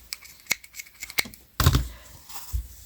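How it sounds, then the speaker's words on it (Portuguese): Scissors snip crochet yarn used for a baby's crocheted sandal, several sharp close clicks followed by a louder rustle as the cut thread is handled. "Vamos cortar aqui a linha."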